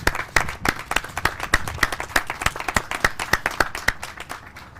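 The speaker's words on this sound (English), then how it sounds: "can you guys do me a huge favor and do a round of applause?" A modest audience at a Salt Lake City event on COVID-related financial assistance programs claps in a round of applause. The claps are distinct and close, repeating briskly for about five seconds.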